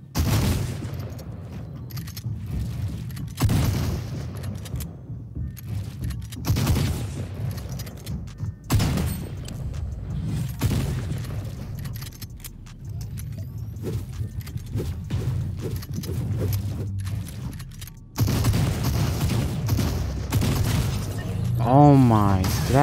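Repeated pistol gunshots in a video game, likely Fortnite, pop in quick bursts through the clip, mixed with game sounds and someone talking over them.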